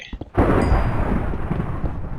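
A single loud, close thunderclap from a lightning strike in Minecraft booms out after a brief lead-in, then rolls and rumbles on for a couple of seconds.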